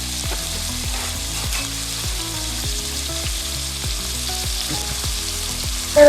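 Byadagi chillies roasting on low flame in a pan, a dense steady crackling sizzle with regular soft knocks from stirring, close and even throughout.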